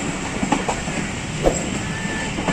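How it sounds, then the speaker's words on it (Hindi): Kohat Express passenger train pulling into Rawalpindi station in Pakistan, a steady rolling rumble with clickety-clack wheel beats and faint squeals, heard from on board. "134 डाउन कोहाट एक्सप्रेस अपने मुकर्ररा वक़्त पर पहुंच रही है रावलपिंडी"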